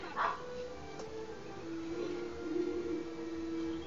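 War dogs in the video game Age of Empires III barking and whimpering, a few short yips near the start followed by faint, steady whining under game ambience.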